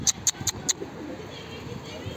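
Pigeons give four short, high calls in quick succession, fairly close, followed by quieter background sound.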